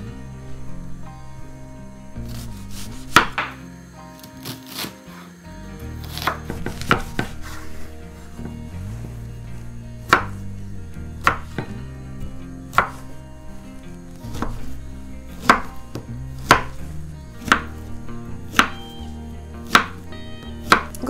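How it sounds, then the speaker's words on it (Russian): Knife chopping pear and onion into cubes on a cutting board, a steady series of sharp, fairly close knocks at an uneven pace, with no talking. "Теперь мы берем грушу, лук и нарезаем их на кубики"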